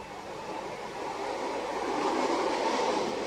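A train runs along a rural railway near a fen nature reserve, a steady rolling rumble that swells slightly as it draws closer, moderately distant and without voices.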